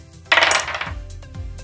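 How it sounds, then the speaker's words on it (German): Two dice are rolled and clatter onto a hard surface during a tabletop dice game, a sharp rattle and a few quick bounces lasting about a second, close and clear with no talking. "Wir würfeln jeweils mit zwei Würfeln und schauen, wer die höhere Zahl hat."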